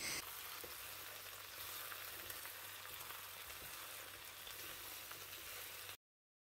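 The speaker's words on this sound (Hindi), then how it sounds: "अब आप इसको थोड़ा सा और फ्राई करें ताकि भिंडी जो है मसालेदार बने" Okra frying in a pan with red chili and salt masala, a steady close sizzle that carries on evenly for about six seconds and then cuts off, with no voices.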